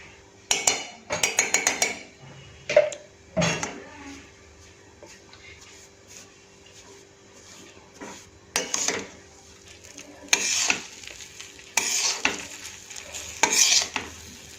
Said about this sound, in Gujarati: અને આને ધીમા તાપે આપણે શેકાવા દઈશું